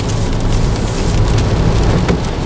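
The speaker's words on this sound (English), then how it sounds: "I wish this rain would stop just while we test that Nissan Leaf out" Heavy rain drums steadily and loudly on a Nissan Leaf electric car, a dense, unbroken patter close by with no pauses throughout.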